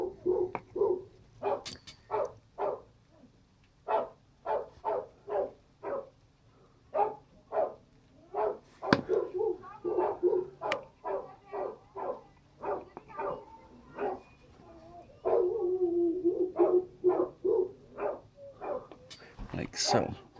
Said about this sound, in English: obviously the dogs decide to start barking when I decide to start recording